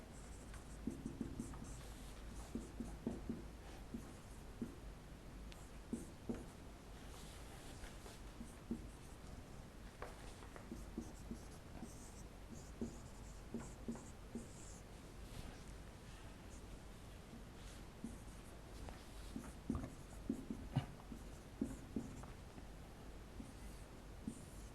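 A pen scratches steadily across paper or a board as chemistry examples are written out, continuous faint strokes with small taps over a hissy background.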